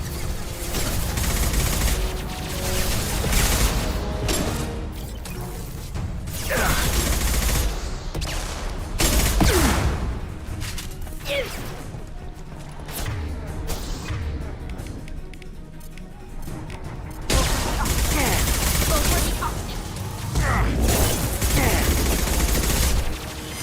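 Sustained bursts of rapid gunfire from the Mass Effect 2 video game, loud and dense, with booming impacts and brief quieter gaps between volleys, under occasional character voices.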